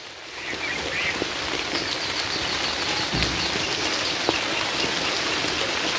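Rain beginning to fall beside a village pond, a steady broadband patter of drops on surfaces that fills the scene evenly and close by, with a few louder drops standing out.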